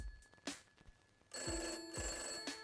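Telephone rings after a number is dialed to reach police headquarters, the bell ringing in several clear bursts at a moderate level over a quiet room, with no voices.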